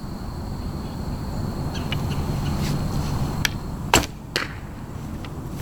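Arrow shot from an Omega Royal Huntsman longbow at 30 yards outdoors: a quick dull snap of release followed moments later by a second faint impact, over soft ambient noise with light chirps.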